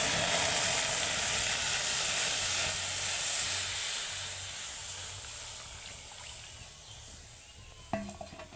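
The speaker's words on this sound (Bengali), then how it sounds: "কড়াইতে দিয়ে দেব এই কলার রস।" Banana juice for homemade banana jaggery hits a hot wok with a loud, steady steamy hiss that slowly fades, ending with a sharp metallic clink near the end.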